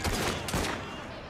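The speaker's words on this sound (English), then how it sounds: "Fire weapons and fire!" Assassin's Creed Syndicate gunfire, two quick loud volleys of shots close together, then a decaying rumbling tail.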